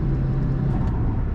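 A Nissan S13 Silvia with a turbo engine builds boost on the road, a loud close engine drone holding steady under load with road noise, alone without talk.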